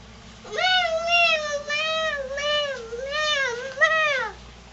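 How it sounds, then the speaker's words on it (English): A cat meowing repeatedly, several drawn-out close meows in a row with slight pitch bends, over faint background noise. "Cat say meow."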